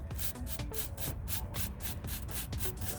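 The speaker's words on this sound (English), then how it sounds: "Brush that sand back over there" A broom sweeps sand back and forth across a concrete backyard surface in steady, repeated scratchy strokes, close and continuous with no talking.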